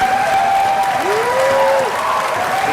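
A crowd applauds steadily and fairly loudly throughout at a Philippine political gathering, with a faint voice or tone drifting over the clapping.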